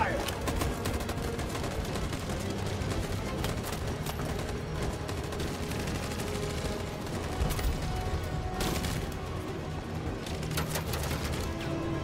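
Rapid sustained gunfire fills a combat scene in the video game Detroit: Become Human, dense bursts rattling continuously at close range for the whole stretch with no pauses.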